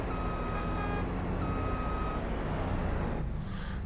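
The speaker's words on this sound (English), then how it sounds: "Go ahead to back this tractor up over to this side." Tractor reversing beeps in a farming video game: a steady run of evenly spaced electronic beeps over a constant engine drone, fairly loud, fading out near the end.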